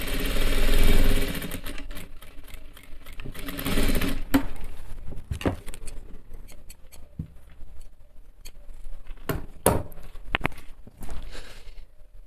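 An electric sewing machine stitching a Nehru jacket runs in bursts, a fast mechanical whirring hum with short stops and restarts, close and steady with no talk.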